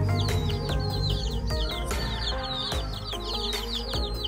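Hen and her chicks in a homemade bamboo coop cluck steadily, with chirping calls layered over a continuous busy background; no talk.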